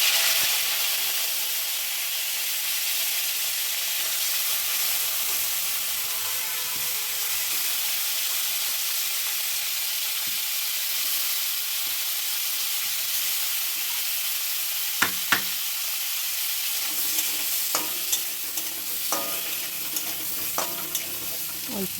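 Boiled potatoes sizzle in hot oil in a kadai, a steady bright frying hiss punctuated near the end by a few sharp clinks and scrapes of stirring.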